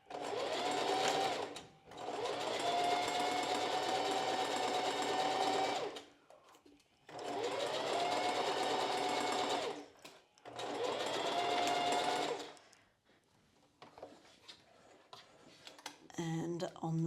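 A home sewing machine stitches through bra lining, back band and main fabric in four loud, steady bursts, each a couple of seconds long, separated by short pauses, with a brief quieter rustle near the end.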